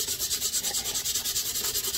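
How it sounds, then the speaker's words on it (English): Scuff sanding a wooden jewelry box by hand, a fast rhythmic back-and-forth rasp repeating about eight times a second, close and fairly quiet, with no talking. "scuff sanding normally doesn't take that long"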